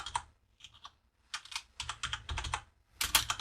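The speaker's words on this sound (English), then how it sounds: "So we're just going to simply type select distinct" An SQL query is typed on a computer keyboard in short bursts of crisp, close keystrokes separated by brief pauses, with no one speaking.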